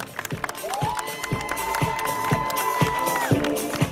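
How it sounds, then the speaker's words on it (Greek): A crowd applauds and cheers steadily at the opening of a football tournament in Nafplio, Greece, with rhythmic clapping and a few whoops rising above the noise throughout. "Ένα χειροκρότημα για την ομάδα από το Λίβανο."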